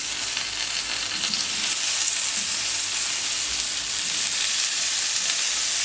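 Small vegetables frying on a moderately hot plancha griddle, a steady close sizzle and crackle with a bit of stirring, running evenly throughout with no talk.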